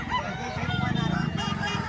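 A chicken at a poultry market in Lipa, Batangas gives a short run of rapid, close clucking and throaty calls, fairly loud over light background murmur.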